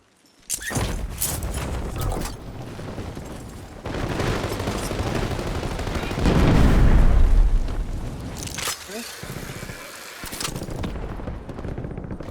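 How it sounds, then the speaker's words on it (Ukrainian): Sniper and other gunfire in a Call of Duty Warzone match: repeated loud shots and booming bursts spread over the clip, with a dense stretch of firing near the middle and sharp reports toward the end. "Снайпер пиздує по нас, Андрій."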